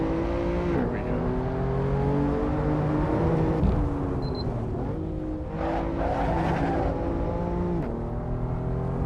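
A BMW M4 on the Nürburgring braking and downshifting, its engine note dropping in stepped pitches with loud, steady mechanical roar and brief rev blips, while a person talks over it.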